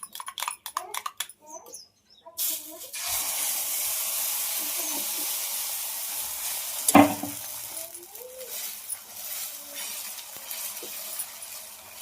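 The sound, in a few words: omelette frying in a pan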